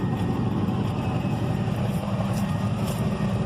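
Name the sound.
S10 truck V8 engine running rough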